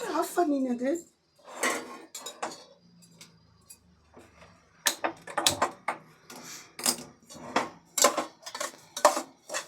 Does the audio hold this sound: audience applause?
no